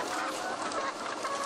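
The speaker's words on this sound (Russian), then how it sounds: "А это взрослые куры-несушки." Adult laying hens clucking inside a large automated poultry house, a dense continuous chorus of many birds with no single call standing out.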